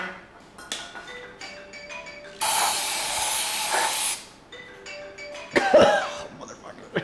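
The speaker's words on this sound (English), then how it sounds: "spray her down with some brake clean" A steady, loud spray of aerosol brake cleaner hisses for about two seconds, then stops; a second short spray burst follows amid faint clinks and background noise, during teardown of an AMC 401 engine.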